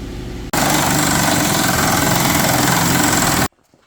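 An impact wrench tightens a Bombardier snowmobile's track adjuster in one loud, continuous buzzing run of about three seconds, starting and stopping abruptly, close up.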